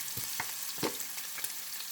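Chili dropped into hot oil with toasted spaghetti and bacon sizzles and crackles at close range, with a few brief stirring scrapes and bursts across a steady frying hiss.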